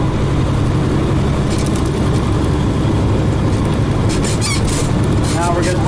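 A heavy truck with a 13-speed transmission pulls at full throttle through a split shift, its engine droning low and steady, with brief squealing and hissing bursts near the end and a voice talking over it.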